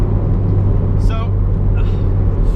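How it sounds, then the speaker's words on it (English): Turbo flutter from a 300 whp MR2 fitted with a station wagon engine: a steady, loud engine drone with brief chirping flutter bursts over it. "I hope this camera is please picking up this fluttering"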